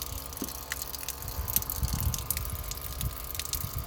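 Water runs steadily from a hose fed by a solar-powered pumping system into an IBC tank, a continuous low gushing and trickling wash with faint drips, close by and without any speech.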